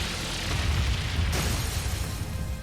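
Fire spell explosion in Trails of Cold Steel III: a dense, roaring blast of noise that swells and holds for a couple of seconds, with a brief brighter burst midway, no talk.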